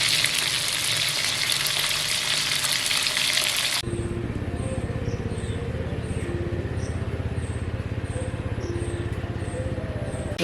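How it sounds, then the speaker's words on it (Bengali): Marine bhola fish frying in oil in a pan in a village kitchen, a loud dense sizzle that drops to a steadier bubbling fry partway through, with faint chirps above it and no talking. "মাছগুলো এবার ভেজে নেব।"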